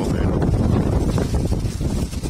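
Strong wind buffets the microphone in a constant low roar and rumble, loud and close, with no clear voices.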